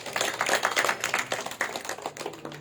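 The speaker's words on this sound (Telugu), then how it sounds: "ఒకసారి మన బ్రహ్మర్షి పత్రిజీ గట్టిగా చప్పట్లు కొడదాం" An audience at a spiritual meditation discourse bursts into loud, dense clapping that swells and then gradually thins out.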